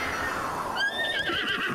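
A short, high, wavering horse whinny from the video game The Legend of Zelda: Breath of the Wild rises out of steady game background noise and ends with a few snorting pulses.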